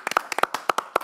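A small church group clapping for a parish: a short burst of distinct, uneven hand claps from a few people, crisp and close, with no talking.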